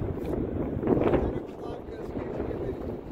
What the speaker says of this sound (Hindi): बहुत तेज़ हवा चल रही है भाई